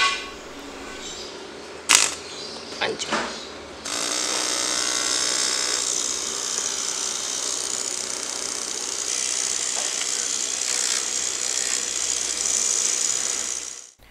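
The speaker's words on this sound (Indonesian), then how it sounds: "Tidak seperti motor brush atau motor biasa yang bisa dihidupkan langsung dengan memberi supply seperti ini." A brushed DC motor wired straight to a power supply gives a few clicks and sputters, then settles into a loud, steady whirring whine lasting about ten seconds.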